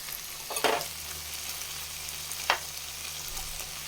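Okra sabzi frying in a pan with a ginger, green chili and coriander paste in little oil, a steady sizzle broken by two sharp stirring scrapes, with no voices.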